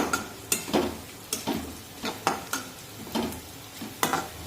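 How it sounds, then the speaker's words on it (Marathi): Chopped onion frying in a pan over a medium gas flame, a steady close sizzle broken by about nine sharp scraping strokes of a spoon or spatula stirring it, with no voices. "तर इथे मी गॅसची फ्लेम थोडीशी वाढवते म्हणजे मध्यम आचेवर करून घेते आणि कांदा छान तांबूस रंगावर भाजून घेते"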